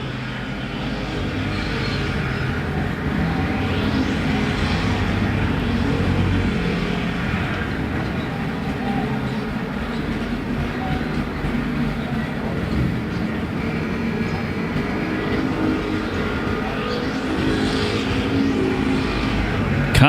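Street stock race cars roaring around Perris Auto Speedway in a main event, a continuous blended engine roar heard from the stands, with passing surges swelling and fading through the pack.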